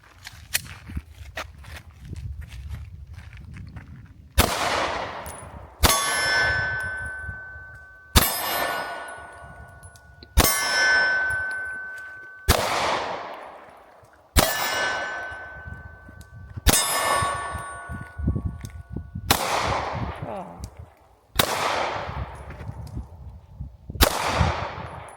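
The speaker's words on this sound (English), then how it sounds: "So I'm gonna shoot this really quick right now and see how it does." Glock pistol firing about eight single shots at a steady, unhurried pace, each a sharp loud crack with a ringing metallic tail, close and with no talk between shots.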